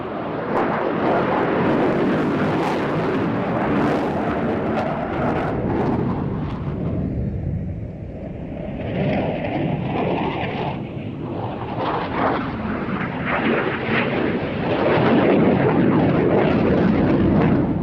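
Loud, continuous jet roar from a Tornado military aircraft flying at a seaside airshow, a broad rumbling wash that dips briefly midway before swelling again, with no talk over it.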